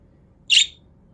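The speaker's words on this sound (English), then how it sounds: "The birds, there's so many birds outside right now." A single short, high bird chirp rings out once outdoors, clear and fairly close, over an otherwise quiet background with no voices.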